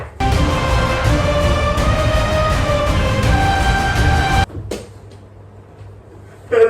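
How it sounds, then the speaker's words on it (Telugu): A hotel room door is tried but will not open, giving a few seconds of rattling, clattering handle noise over a steady droning hum, then a sharp clack, a quiet stretch and another knock at the end, with no one speaking. "అరే డోర్ వస్తలేదు"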